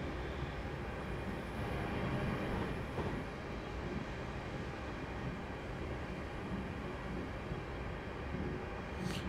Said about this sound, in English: An overtaking train